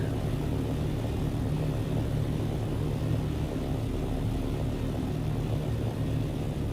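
Steady, loud propeller-engine drone from an aircraft in the video game Dune: Awakening, a continuous low rumble with no breaks and no talking.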